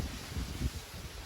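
Wind gusting against the microphone, a rough low rumble with rustling noise, steady and fairly loud throughout.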